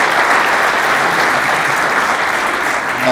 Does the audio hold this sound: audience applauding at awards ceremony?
yes